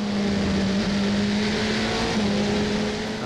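An LMP prototype race car's engine drones steadily from on board during the 4 Hours of Barcelona endurance race, a loud, sustained tone that dips briefly as gears change.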